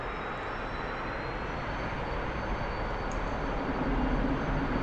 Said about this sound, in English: Burners are kicked in.